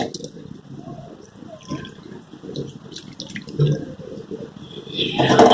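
Brushes are swished and rinsed in water, giving soft splashing and trickling that runs under quiet speech and grows louder near the end.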